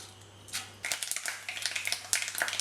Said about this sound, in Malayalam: അതിലേക്ക് നമുക്ക് 1 ടീസ്പൂൺ കടുക് ഇട്ട് കൊടുക്കുക.